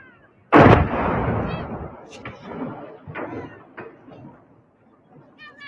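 A Chinese rocket booster crashing to the ground and exploding near a house, heard as one sudden loud boom that rumbles away over a couple of seconds, followed by fainter cracks, a cat meowing and a brief voice.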